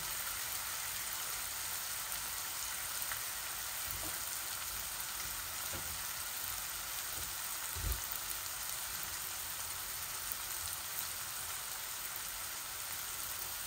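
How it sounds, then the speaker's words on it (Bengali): Taro leaves frying in hot oil with chilli and spices, a steady, even sizzle that runs throughout with a few soft stirring knocks, no voices. "দেখছেন তেল বাসিয়া উঠিছে, আমার মরিচ মশলাগুলা ভাজা হয়ে গেছে, এখন আমি এই শাকটা দিলাই"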